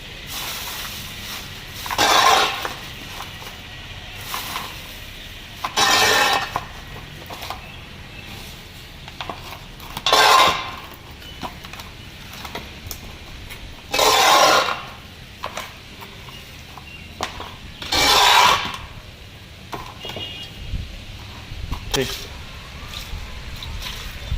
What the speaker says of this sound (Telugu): మళ్ళీ ఇప్పుడు మట్టి వేసేసుకోవాలి ఇందులోకి